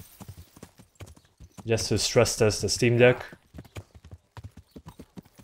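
Horse hooves clip-clop at a steady rhythm through a bigger town in the video game Kingdom Come Deliverance, moderately close. Someone talks over the hoofbeats in the middle.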